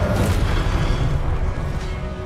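A Confringo spell detonates in Hogwarts Legacy with a loud, deep boom followed by a sustained rumbling roar that stays heavy and even for a couple of seconds, with no talk over it.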